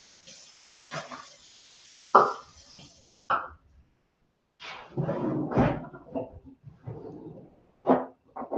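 A kitchen herb and spice drawer opens and closes with a few sharp knocks, wooden clunks and rattling of jars in between, heard close by in a quiet room.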